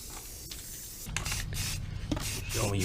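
A paint spray gun lays a second coat on a 1965 C1 truck, a faint hiss that becomes a steady, fuller stream of spray after about a second.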